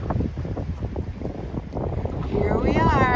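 A steady breeze buffets a sailboat entering Banderas Bay, making loud, continuous rushing wind noise over low rumbling. A voice joins faintly near the end.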